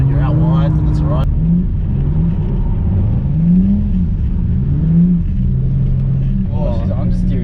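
A Ford Falcon drifting, its engine rising and falling in pitch as the throttle is jabbed and released, a droning rev heard from inside the car with people talking over it.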